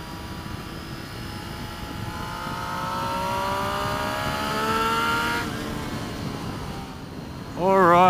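Triumph Street Triple RS motorcycle engine on a test ride, its rising revs climbing steadily before backing off, with wind noise and a sharp rev burst near the end.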